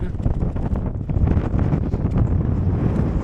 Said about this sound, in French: Le vent, hein.